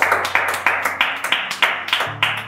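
Classmates in a Nigerian classroom clapping for a competition winner, close, loud and sharp claps in a brisk, fairly regular rhythm, about fourteen across the stretch, with no talk.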